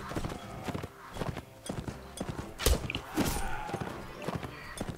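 A horse gallops in the Mount and Blade Warband video game, with steady clip-clop hoofbeats and occasional clanks of combat, moderately loud and continuous.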